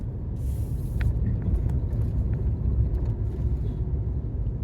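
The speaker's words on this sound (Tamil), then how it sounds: "நம்ம கொஞ்சம் ஒரு நேரோவான ரோடில் தான் ட்ரைவ் பண்ணிகிட்ருக்கோம்" A Tata Safari 2024 SUV drives along a narrow road, giving a steady, deep road-and-engine rumble with faint rattles and ticks above it and no talking.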